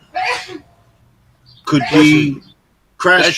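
A loud, close sneeze bursts out on live radio, followed by a second explosive vocal burst, with people speaking around it.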